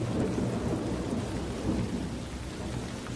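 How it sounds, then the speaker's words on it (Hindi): Heavy rain pours down in a forest with low rumbling thunder, a loud, continuous downpour with rolling swells of thunder and no voices. "जंगल में तेज बारिश हो रही थी, हर तरफ पानी की मोटी मोटी बूंदें गिर रही थीं।"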